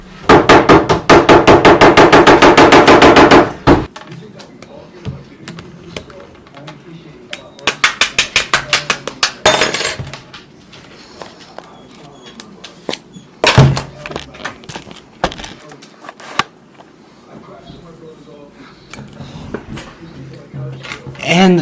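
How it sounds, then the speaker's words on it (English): A peanut butter jar being opened in a kitchen: loud rapid rattling bursts, then a series of sharp knocks, thumps and clatters with quieter handling noises in between, spread over about twenty seconds. "our next step is to take our peanut butter and open it up"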